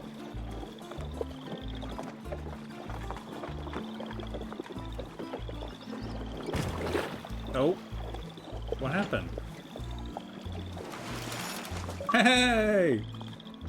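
In the video game The Oregon Trail, a wagon and ox ford a river. Rhythmic, looping sloshing and clopping game sounds run steadily under a voice talking, and the talk gets louder near the end.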